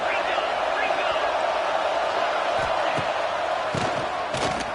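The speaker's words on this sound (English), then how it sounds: "Here comes this home crowd as the defense tries to get off the field on 3rd down." Home crowd at a football game roaring steadily as the defense tries to get off the field on third down, a dense loud wall of cheering and shouting with a few thumps near the end.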